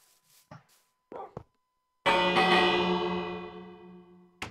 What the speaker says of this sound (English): just constantly ding the bell